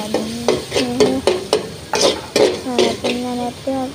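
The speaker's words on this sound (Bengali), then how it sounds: "আদা বাটা দেওয়ার পর এখানে নাড়িয়ে নিচ্ছে।" Stirring fried onion with ginger paste in a cooking pot: a rapid run of scraping, sizzling strokes, roughly ten of them in close succession, loud and near, with no talk.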